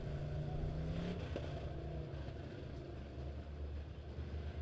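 Dirt track Midwest Modified B-class race car engine at Springfield Raceway, firing up and running with a steady loud rumble and a brief rev, amid continuous track and crowd noise.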